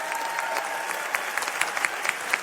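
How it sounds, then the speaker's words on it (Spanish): A crowd applauds steadily at an event at the Tec de Monterrey, dense clapping with a few sharper claps standing out, moderately loud and continuous throughout. "un aplauso,"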